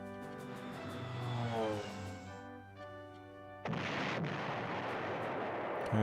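Retro PlayStation wartime strategy game Panzer General with bombers striking anti-aircraft positions: a droning, descending engine tone gives way to a loud, noisy burst of explosive impact.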